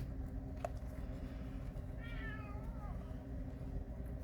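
A house cat meows once in a short, rising-and-falling call, faint and somewhat distant over a steady low background hum, with no talking over it.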